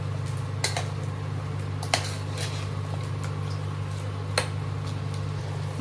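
A spoon scrapes and clinks against a pot as mutton curry is mixed with masala and coriander powder, a few sharp metallic knocks spaced seconds apart over a steady background hum.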